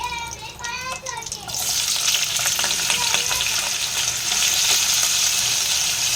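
Potatoes hit hot oil with bay leaf, cinnamon, cloves and cardamom in a Bengali lau chingri dish, bursting into a loud, steady sizzle after a quieter start, with stirring clatter throughout.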